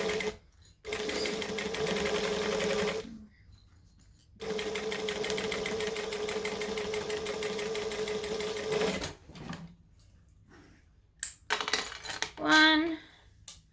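A sewing machine stitches a seam in short, steady bursts of rapid mechanical chatter, stopping and restarting several times, with light handling clicks in the pauses and at the end.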